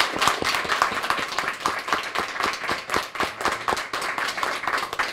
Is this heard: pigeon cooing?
no